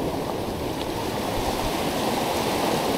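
Strong waves churn and rush continuously, a heavy roaring wash of water close by with no voices.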